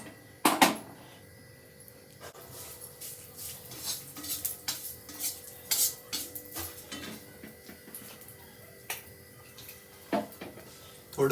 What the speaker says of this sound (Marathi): आपण थोडे तीळ भाजून घेत आहोत.